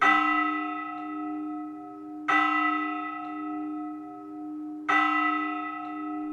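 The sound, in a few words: ringing of old church bell from 1377 in Navarre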